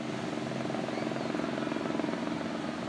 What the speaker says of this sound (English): you can see this helicopter coming through